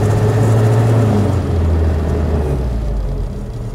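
A cold Suzuki Samurai engine idles close by with a loud, steady low rumble and uneven throbbing, easing slightly toward the end, with no voices.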